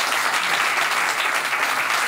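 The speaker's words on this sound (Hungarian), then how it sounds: "Én nagy tapsot szeretnék kérni Ucsi Zoltánnak." A studio audience on a Hungarian evening talk show applauds a departing guest, a steady, dense wash of clapping that stays loud and even throughout with no talking over it.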